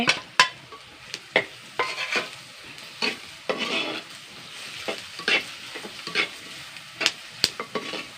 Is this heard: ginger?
yes